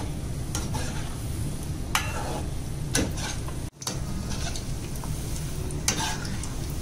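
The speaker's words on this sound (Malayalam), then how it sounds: "ഇതിന് രണ്ട് സൈഡും ഏകദേശം ഒരു ഗോൾഡൻ കളർ ആവുന്ന വരെ നമ്മള് നല്ലോണം ഇളക്കി കൊടുക്കാം." Wheat-flour milk cakes fry in a pan and are stirred steadily until golden, giving a continuous close sizzle with a few sharper scraping taps over roughly seven seconds; no one speaks.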